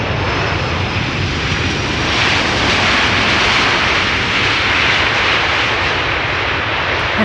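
Cargo jet landing at Amsterdam Schiphol, a loud, broad, continuous engine roar with a faint whine, steady and swelling slightly as it passes, with no talking.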